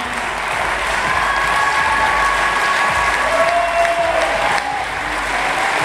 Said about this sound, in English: Applause from the Russian Federation.